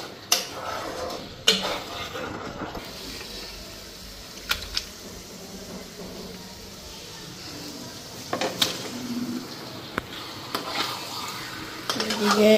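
Potatoes fried with spices in a pan at home, stirred steadily with a utensil that scrapes and knocks against the metal over a soft sizzle, with occasional louder clinks and no speech.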